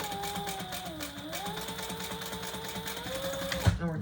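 Sewing machine stitching the side seam of a leather retro-style sling bag, a steady motor whir with rapid needle clatter and a rising-falling hum, ending in a brief clunk.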